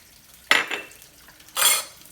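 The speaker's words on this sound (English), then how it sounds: "we're going to put olive oil in. We're going to add the sun-dried tomatoes." Sun-dried tomatoes hit hot olive oil in a pan, two short, close bursts of sizzling hiss about a second apart, with quiet pauses around them.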